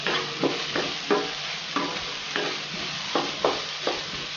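Onions with oregano sauté in a pan, a soft steady sizzle broken by repeated scraping strokes of a spoon stirring, fairly close and moderately quiet.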